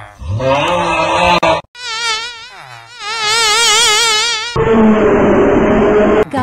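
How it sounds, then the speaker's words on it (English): A mosquito sound effect whines loudly in several bursts, with a high, wavering buzz that rises and falls and cuts in and out between segments, close and alone with no talk. "got bitten by a mosquito again?"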